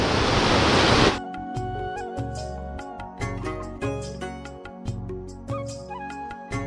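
Water gushing from a broken village water pipeline in the hills after the rains: a loud burst of rushing flow opens the clip, then drops to a steadier splashing stream with intermittent louder surges.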